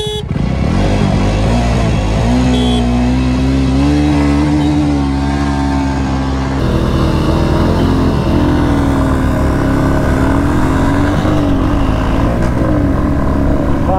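A Royal Enfield Classic 350 Reborn motorcycle runs in a drag race, its loud thumping engine close by, rising in pitch as it accelerates through the gears, with brief voices underneath.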